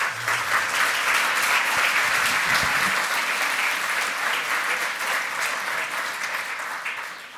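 A conference hall audience at a hacker congress applauds a speaker taking the stage, a loud dense clapping that holds steady, then thins and fades toward the end.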